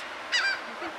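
Geese honking at a beach: a single loud, harsh honk, followed by a fainter second call near the end, over steady wind and surf noise.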